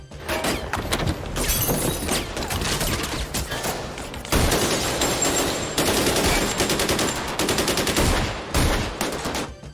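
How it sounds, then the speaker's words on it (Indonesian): Dense, loud gunfire from a film shootout, rapid automatic bursts and shots rattling almost continuously, with crashes mixed in. "Adu tembak pun tak terelakkan"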